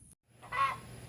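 A laying hen gives a single short, honking cackle outdoors on a small farm, close and fairly loud after a brief pause.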